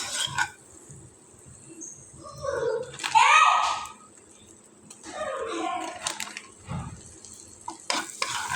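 Butter and wheat flour fry in a pan for a white sauce, with soft sizzling and scraping stir strokes coming in uneven bursts while a person talks over them.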